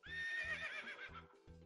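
A loud, close horse whinny rises and trembles for about a second, while rhythmic clip-clopping hooves or a thumping beat pulse steadily beneath it.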